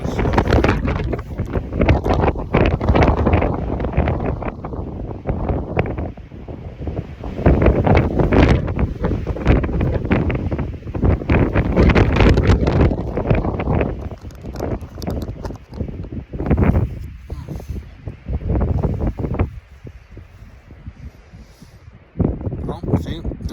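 Strong gusty wind buffets the microphone in Surprise Canyon, Death Valley, with loud, roaring bursts that rise and fall throughout. A person talks intermittently beneath the noise.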